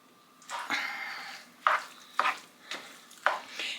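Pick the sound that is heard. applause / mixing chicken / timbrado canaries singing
mixing chicken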